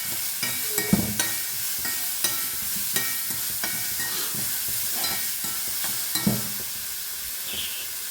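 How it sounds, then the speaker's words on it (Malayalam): Salted ridge gourd stir-fry stirred in a pan, a soft steady sizzle with scraping spoon strokes and occasional clinks against the metal, close and alone. "നന്നായിട്ട് ഒന്നും കൂടി ഇളക്കുക"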